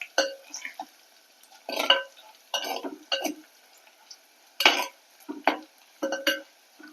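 Garlic and fenugreek are stirred and fried in a clay pot, with intermittent scraping and clattering strokes of a spoon over a faint background sizzle.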